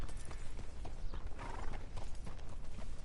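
Rhythmic clip-clop of horse hooves with a brief whinny in the middle, from the video game Red Dead Redemption 2, set against faint mechanical background noise, moderately quiet.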